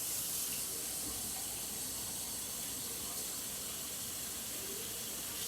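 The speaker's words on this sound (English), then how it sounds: "I'm gonna add the water to it now." Water poured into a pan of sautéed food, giving a steady broadband sizzle and hiss that stays loud and even throughout, with no talking.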